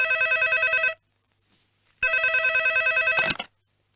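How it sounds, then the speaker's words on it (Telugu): A telephone bell rings in two trilling bursts separated by a second of silence, loud and close, the second burst ending in a brief clatter. "Phone, phone, telephone."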